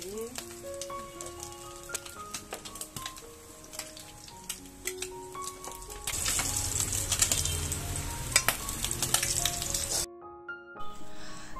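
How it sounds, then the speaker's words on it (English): A first batch of kingfish fillets frying in a pan over a medium-high flame, giving a steady soft sizzle with scattered ticks and crackles. The sizzle swells louder for a few seconds, then briefly drops away. "My fish is being fried, the first batch"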